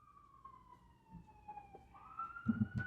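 Emergency vehicle sirens outside a small apartment building in Los Angeles, a wailing tone sweeping down then rising again, heard at a distance and fairly faint, with some low rumbling nearby.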